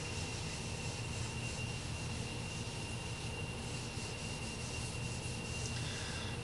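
A soft, continuous rubbing as Tru-oil finish is laid thickly onto a walnut guitar body, faint and even throughout with no speech.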